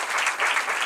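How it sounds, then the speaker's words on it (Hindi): Brief burst of audience applause at a spiritual gathering, a dense wash of clapping that swells slightly in waves and carries on without any speech over it. "जोरदार ताली"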